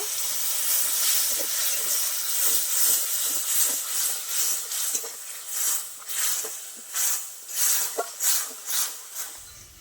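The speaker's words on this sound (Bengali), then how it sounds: "সামান্য জল দিয়ে মশলাটা কষিয়ে নেব" A spice paste with turmeric, sugar and a splash of water sautés in a pan, giving a bright steamy hiss that swells and fades in repeated pulsing bursts, growing more sputtery toward the end.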